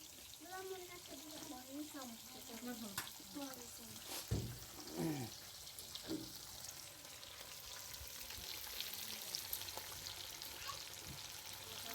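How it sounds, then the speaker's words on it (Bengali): Carp fish fry on a hot village stove with a steady, soft sizzle. Voices talk over it, with a few louder clatters in the middle. "গরম উনুনে মাছ ভাজি হচ্ছে"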